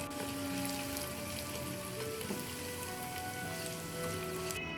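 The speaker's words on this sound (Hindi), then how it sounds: "इसे हम मिक्स कर लेते हैं और थोड़ा सा भून लेते हैं।" Continuous fine crackling sizzle of ginger garlic paste frying in a pan, steady and close with no talking.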